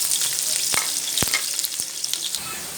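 Three medium onions hit hot oil for mutton pulao, a bright continuous hiss and crackle with sharp spitting pops scattered throughout, close up and with nobody speaking.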